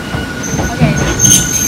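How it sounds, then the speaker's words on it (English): A loud, steady rumble of a train arriving nearby in Hakone, Japan, with faint metallic squeals and a rising hiss toward the end. "the train is here"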